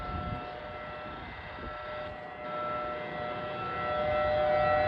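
Civil defense siren sounding its first-Friday-of-the-month test, a steady sustained wail held at a fairly high level with a gradual swell toward the end, no voices.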